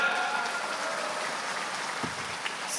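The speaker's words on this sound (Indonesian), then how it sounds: "tepuk tangan." An audience at an Indonesian religious lecture applauds, a steady, even wash of clapping heard from a moderate distance, with no single claps standing out.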